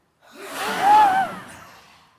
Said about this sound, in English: And now, breathe very deep.